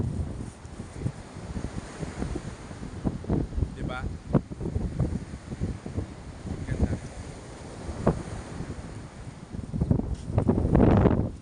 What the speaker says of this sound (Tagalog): ganyang kaganda yung dagat sa amin